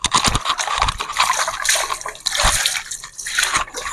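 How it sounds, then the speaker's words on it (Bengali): Raw green mangoes being washed by hand in water, with continuous splashing, sloshing and trickling close by, rising and falling in bursts with no talk. "আমগুলাকে ভালো করে ধোয়া হচ্ছে, দেখতে পাচ্ছ"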